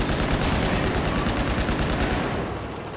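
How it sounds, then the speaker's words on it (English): Rapid, continuous weapon fire in a Battlefield 4 hardcore locker deathmatch, a loud, steady barrage of repeated launcher and gun shots that eases off near the end. "Oh, grenade launcher."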